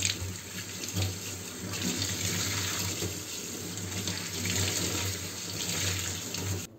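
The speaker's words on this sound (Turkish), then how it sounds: "Şöyle bezimi bir yıkayacağım." A kitchen tap runs steadily into the sink while a cleaning cloth is rinsed under the stream, a continuous splashing gush of water with slight shifts as the cloth moves.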